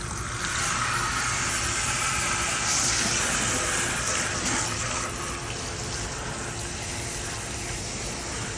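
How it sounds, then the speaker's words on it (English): Cool tap water running steadily as hair tint is rinsed out at a salon sink, a continuous gushing wash that stays level and close throughout with no talking. "And then you're going to rinse your client out with cool water."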